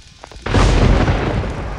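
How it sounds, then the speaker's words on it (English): A rocket jump explosion in the mobile shooter Pixel Gun 3D goes off as a sudden loud boom after a few faint clicks, then fades into a rumbling tail. "Gonna rocket jump up here."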